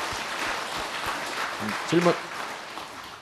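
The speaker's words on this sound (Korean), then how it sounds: "자, 박수." An audience at a Buddhist dharma talk claps in a soft, steady rush of applause, and a voice speaks briefly partway through.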